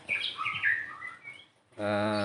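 A white-rumped shama (murai batu) gives a short run of bright chirps and whistled notes, close and fairly clear, before a brief pause and a sustained buzzy tonal sound.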